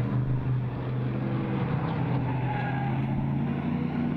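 A race car at the 2012 NASA Championships roars past on the track heading into turn 1, a dense, loud engine drone that holds steady for several seconds without voices.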